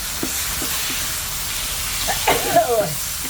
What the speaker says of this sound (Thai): แล้วก็เอาถั่วฝักยาวลงไปผัด ใส่ถั่วฝักยาวไปก่อนเลยนะคะ